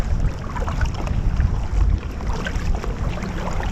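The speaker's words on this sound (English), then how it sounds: "Kind of paddling fast, so I don't keep anybody waiting." A kayak is paddled fast through a lock on a Lake Superior expedition, with a dense rushing wash of water and wind buffeting the microphone throughout and no talk.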